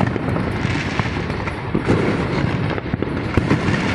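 Fourth of July fireworks seen from an upper-floor apartment window in the US, a dense continuous barrage of crackling bursts and distant booms, loud and sustained throughout with no pauses or voices.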